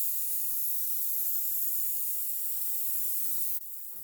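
A paint sprayer hisses steadily as it coats shiplap paneling, a close, continuous airy spray that cuts off abruptly near the end and leaves fainter noise behind.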